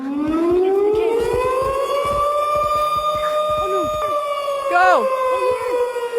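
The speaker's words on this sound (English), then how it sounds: "That sounds like a tornado siren." A wailing tornado siren in the VR game Gorilla Tag rises and holds a steady drawn-out tone, loud and close, with players talking briefly over it.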